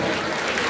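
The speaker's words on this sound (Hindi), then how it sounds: "एक बार जोरदार ताली हमारे डायरेक्टर साहब के लिए आप लोग करेंगे।" Audience applause at a school annual function in Darbhanga, a dense steady wash of clapping from a large crowd throughout, fairly loud, with no speech over it.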